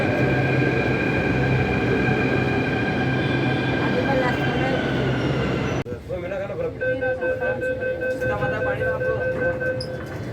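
Jaipur metro train running, heard from inside a four-coach train: a loud continuous rumble with steady whining tones, then a sudden drop to a quieter hum with faint clatter and murmuring voices of passengers.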